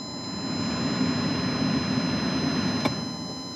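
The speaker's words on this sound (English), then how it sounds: "I'm gonna turn the climate control on." A gas car with manual transmission idles with its climate control fan running, giving a steady low engine hum and broadband blower rush at constant loudness, with one brief click near the end.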